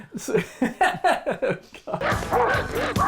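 Several dogs bark and yip in a quick, rhythmic run of close, loud barks from a Goosebumps episode, followed by a denser burst of overlapping barking and commotion.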